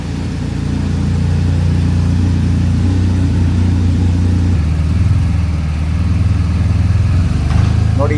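A motorbike engine runs steadily in second gear as the bike rolls down a ramp installed beside a car, a loud, close, continuous drone with a faint click near the end.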